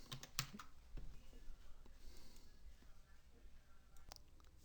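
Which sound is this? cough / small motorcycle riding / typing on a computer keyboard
typing on a computer keyboard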